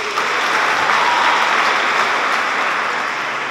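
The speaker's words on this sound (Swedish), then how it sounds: "En stor applåd!" A large audience gives a big round of applause at the Sophiahemmet University graduation ceremony, a steady, dense wash of clapping that fills the room evenly from start to finish.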